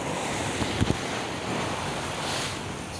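Strong sea waves at a shoreline during an evening of crab fishing with bait, a continuous rushing surf with wind buffeting the microphone and a couple of brief thumps early on.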